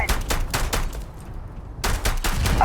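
Enemies fire guns at the player in a video game, rapid bursts of close, loud shots in a fast rhythm that stop for about a second before the barrage resumes.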